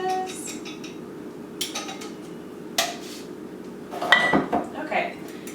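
Pancake-like batter being mixed in a bowl in a makeshift kitchen, with a few clinks and scrapes of a utensil against the dish over a steady low background hum, strongest near the end.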